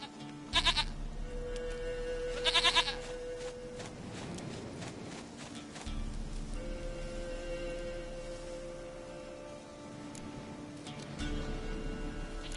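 Two loud, bleating goat calls ring out in The Witcher 3 game early on, followed by steady game music and a low drone with no speech.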